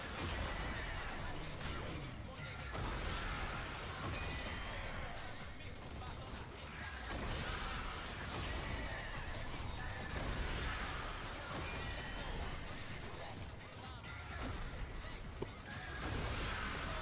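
Many horses neighing and whinnying in a stampede from the Dagath ability in Warframe, a dense, continuous chaotic wash of whinnies and crashing effects throughout, with voices mixed in underneath.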